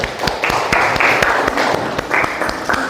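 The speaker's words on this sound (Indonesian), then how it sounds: "Ya, kasih tepuk tangan untuk kelompok 1." Classroom applause for a student group after their presentation, a scattered burst of clapping from a room of pupils filling the short span at steady loudness, with no voices over it.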